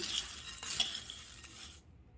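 Crispy sabudana namkeen tossed with powdered sugar: faint dry rustling and light clinking of a spoon in a bowl, a quiet stirring that fades out near the end.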